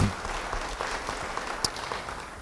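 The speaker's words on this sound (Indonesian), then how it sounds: "Beri tepuk tangan bagi dia." A crowd claps steadily, a dense, even patter of applause lasting a couple of seconds.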